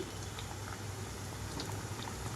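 Cowpea and urad dal snacks fry in hot oil with a steady, dense crackling sizzle and tiny popping bubbles, continuous and fairly quiet throughout.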